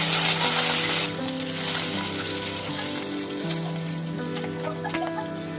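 Bay leaf and split dried red chili frying in hot oil for a vegetable dish, a steady close sizzle and crackle that stays loud throughout with faint background tones.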